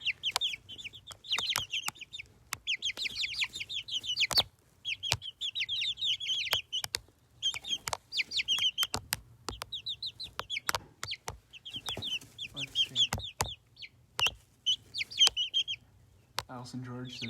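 Backyard chickens cluck and chatter in repeated bursts close by, with sharp knocks and clicks scattered throughout and a low steady hum underneath.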